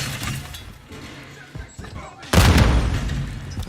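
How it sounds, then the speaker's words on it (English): A grenade goes off in the video game Modern Warfare, a sudden loud shattering blast after quieter game noise, the roar trailing off over the final second, with voices heard earlier. "Grenade out."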